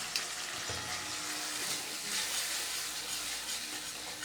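Prawns fry steadily in a pan for papaya curry, a dense continuous sizzle with faint stirring and no voices.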